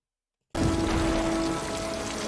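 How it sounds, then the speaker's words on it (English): Steady rain pours down in a movie scene, a dense continuous hiss that starts abruptly after half a second of silence, with a faint tonal hum running underneath. "Neo is about to get baptized by Morpheus, symbolized by the rain you can see here."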